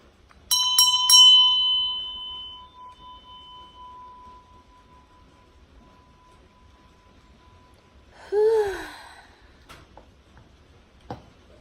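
A meditation bell struck a few times in quick succession, ringing clear and loud before a long, slowly fading tone, followed by a brief soft breath or rustle and a small tick.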